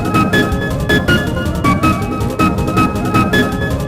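Low-quality remix of the song Scan 1.99 CRK, loud and dense with rhythmic beats, rough distorted texture and bright repeating tones throughout the short stretch.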